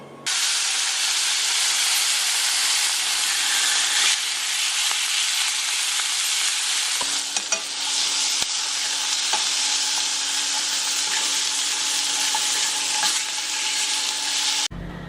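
A steak for a black and blue salad sears in a hot pan, giving a loud, steady sizzle and hiss that runs nearly unbroken for about fifteen seconds, with a few small pops and crackles and no talking.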